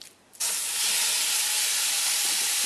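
Ground meat for Italian meatballs hits a hot pan with no oil and bursts into a loud, steady, bright sizzle that holds for a couple of seconds.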